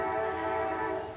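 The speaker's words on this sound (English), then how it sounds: "You can hear the train going off down there." A train sounds its horn far off at night, a sustained faint tonal blast with a low rail rumble underneath, no talk.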